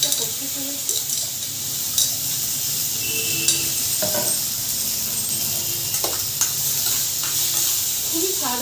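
Washed potatoes frying in a small amount of oil, a steady close sizzle with occasional stirring clinks of a utensil against the pan and brief speech in the background.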